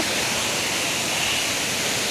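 Tai Tueng waterfall at its third tier in Kanchanaburi, Thailand, gives a steady, dense rushing roar of falling water that fills the scene evenly and loudly from start to finish, with no voices.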